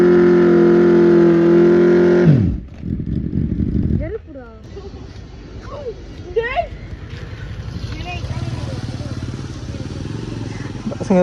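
A motorcycle holds a steady high rev, then breaks into a rough roaring burnout with repeated rising tyre squeals, loud and close, with voices in the background.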